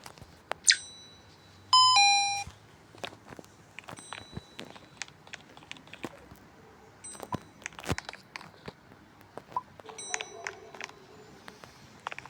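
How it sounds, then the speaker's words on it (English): A doorbell chime rings in the video game Animal Hospital, with a bright ding-dong tone sounding a few times among clicks, crunches and soft game noises. "Can you stop ringing the bell?"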